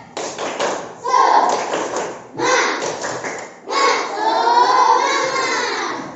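Classroom group doing a rhythmic spirit clap, a patterned series of claps in short bursts mixed with children's shouting and chanting voices, loud and close.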